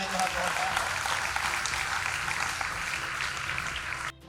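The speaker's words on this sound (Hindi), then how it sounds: "ताली बजाएं जरा जोरदार।" A school assembly audience gives loud, sustained applause, a thick continuous wash of many hands clapping at once that holds steady for about four seconds before a brief dip.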